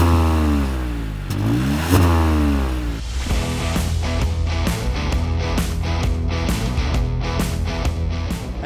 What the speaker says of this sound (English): while that exhaust is entertaining, particularly on a cold start